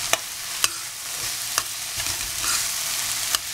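Egg kothu parotta sautéing in a pan, a steady sizzle of frying under sharp metal spatula clanks that strike at uneven intervals, close and fairly loud with no talking.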